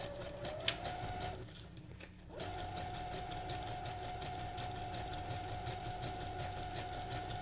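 A sewing machine runs on its own through button control with no foot pedal, a steady mechanical hum with a rapid stitching rhythm that stops briefly, then resumes and carries on evenly, fairly quiet and close.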